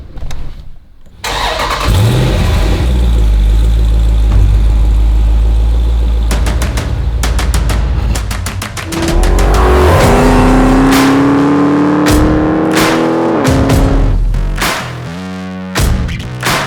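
A 2015 Jeep Grand Cherokee SRT with a 6.4 liter V8 fires up and revs hard in several loud, deep surges, settling briefly between pulls before more rising throttle blips, close and powerful.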